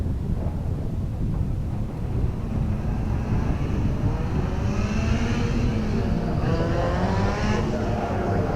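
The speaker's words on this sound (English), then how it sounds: "So the cars now making their way to the grid for Heat 2B" Suzuki Swift rallycross cars roll to the grid at Mondello Park during a 2015 British Rallycross Championship round, their engines a steady, continuous drone with wind buffeting the microphone and no speech over it.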